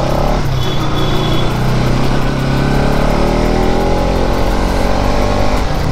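Bajaj Pulsar NS 200 motorcycle engine running loud and close with a steady, buzzing drone whose pitch climbs gradually, as if revving up, for the full six seconds with no talking.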